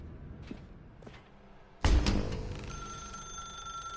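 Faint footsteps lead up to a sudden thud, then a telephone in The Stanley Parable video game begins ringing with a sustained, bright electronic tone.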